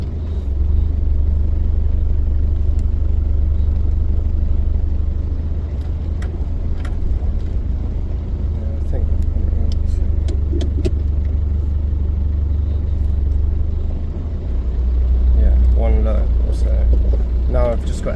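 A car engine in low range, engine braking downhill, drones steadily at low pitch throughout, a continuous rumbling hum that swells slightly at times, with no talking.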